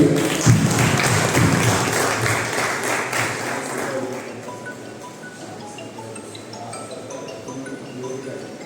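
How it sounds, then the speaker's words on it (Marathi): Audience clapping at a community association annual general meeting in a hall, a loud burst of many hands that gradually thins and fades over several seconds. "आपण त्यांना सर्वजण मिळून धन्यवाद देऊया आणि पुढे टाळ्यांचा गजर करूया"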